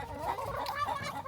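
Hens in a backyard coop give a short run of soft, close clucks and murmurs, with no talk.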